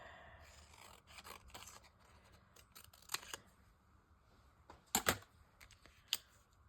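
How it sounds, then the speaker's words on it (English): Paper being cut down with scissors for ephemera: scattered sharp snips and crisp clicks, a couple of louder close cuts near the end, in an otherwise quiet room. "I'm going to cut this down a little bit."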